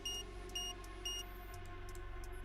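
An elevator panel in the game Nikke beeps three times in an even rhythm, short high tones at about half-second intervals over a low background hum, rejecting an expired access card.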